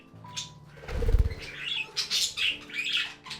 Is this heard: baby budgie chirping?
yes